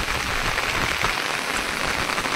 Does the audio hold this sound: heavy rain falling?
yes